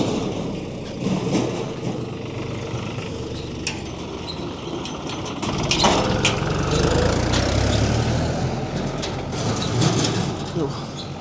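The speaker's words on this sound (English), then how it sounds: "Oh, we've got a tractor here." A tractor engine runs on the grounds of a hotel and golf resort in Söke, Turkey, a steady low mechanical drone heard at moderate distance under ambient outdoor noise, with some talking over it.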